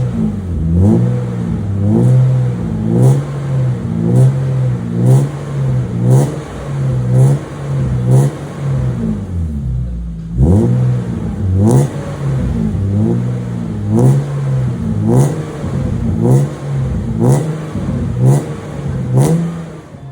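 BMW E36 with an M52 engine and a stainless steel exhaust fitted with an F1 Dual Pro muffler, revved repeatedly in sharp rising bursts over a steady idle, loud and close with a brief drop near the middle.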